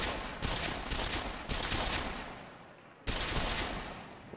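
Gunfire from a first-person shooter demo played with a PS3 motion controller, loud bursts of rapid shots in several separate volleys, each starting abruptly and trailing off, with no talking.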